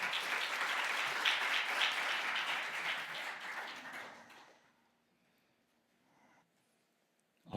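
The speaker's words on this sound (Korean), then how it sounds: "우리 강상경 교수님을 큰 박수로 환영해 주시기 바랍니다" An audience at a conference session welcomes a speaker with loud, sustained applause that fills the room, then fades out over a second, leaving near silence.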